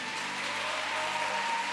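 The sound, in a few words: congregation applauding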